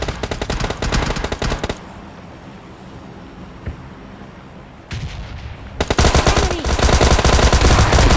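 Rapid gunfire bursts from PUBG Mobile Lite, dense and loud at the start, dropping to a quieter stretch mid-clip, then returning as sustained, heavy automatic shooting to the end.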